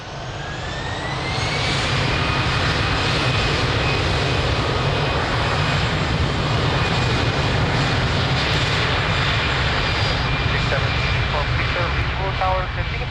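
An airliner takes off from runway 02 at Lisbon Airport, its engine roar swelling within the first two seconds into a loud, steady rumble with a rising whine on top, while voices murmur faintly underneath.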